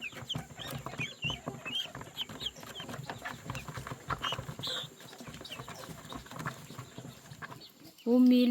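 A farmyard flock of chickens clucks busily around an afternoon corn feeding, with steady overlapping clucks and calls and a louder burst of noise near the end.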